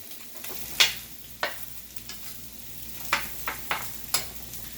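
Asian salmon burgers frying in a pan, a low steady sizzle punctuated by about eight distinct clicks and taps of a spatula nudging the patties, close and alone.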